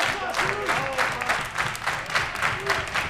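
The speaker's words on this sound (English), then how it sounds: "Crowd getting into it," A wrestling event crowd claps and cheers in steady, dense waves, with rhythmic applause and a commentator talking over it.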